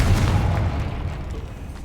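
A Confringo blasting spell detonates in Hogwarts Legacy, a loud, deep boom with a rumbling blast that fills the whole clip and slowly fades.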